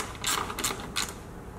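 Ratchet wrench loosening 8mm bolts on the air intake of a Mercedes W123, three quick bursts of close mechanical clicking over a low background rumble.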